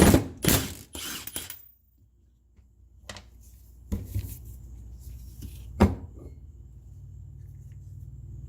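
A socket ratchet working the power steering pump pulley's 19 mm nut on a 2009 Acura MDX, giving a few sharp metallic clicks and clunks early on, then scattered single knocks over a low, steady hum.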